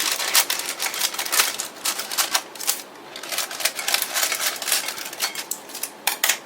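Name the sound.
scissors cutting parchment paper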